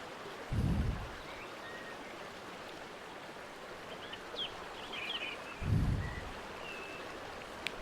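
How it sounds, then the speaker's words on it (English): Faint bird chirps scattered over a steady rush of flowing water in a Second Life virtual world, with two soft low thumps in the background. "The bird song."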